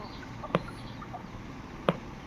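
Chicks of an eastern crossbred breed kept for sale give two short, sharp peeps about a second apart over a low steady background hum.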